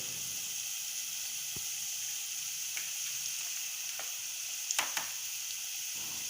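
Spices and chilli powder sizzle steadily in a pan as they are stirred for chana masala, a continuous bright hiss broken by a few sharp scrapes and clinks of the spoon, with no talk.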